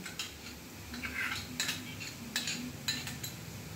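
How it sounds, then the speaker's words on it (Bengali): Spice paste with onions is stirred in a wok for mouri katla, faint metallic clinks and scrapes of a spatula repeating over a quiet low background. "পেঁয়াজের সঙ্গে সব মশলাগুলো ভালোভাবে মিশিয়ে দিচ্ছি।"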